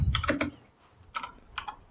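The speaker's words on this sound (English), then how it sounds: "Can you hear me typing?" Typing on a computer keyboard: two quick bursts of clicking keystrokes, close and fairly crisp, separated by a brief pause.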